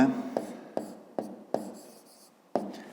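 A pen writes segment names on paper in short separate strokes, about six scratchy bursts evenly spaced, close and clear, with no talk.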